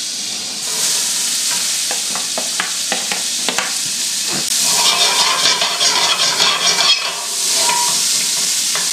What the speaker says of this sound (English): In a heavy bottom skillet, I'm going to take about 2 tablespoons of butter and saute about 3 medium-sized onions.